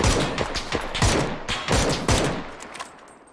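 Rapid gunfire in a first-person shooter, a tight string of sharp, loud shots in quick bursts with brief gaps, heard alone without talk.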